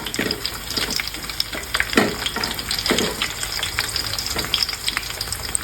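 Onions frying in hot oil with a biryani spice masala of cloves, dried chilies, shahjeera, nutmeg and mace, a dense steady sizzle with close stirring scrapes throughout and no voices.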